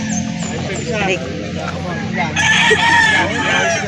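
Chickens cluck and a rooster crows loudly nearby at a chicken market in Calauan, Laguna, Philippines, with people talking over the birds.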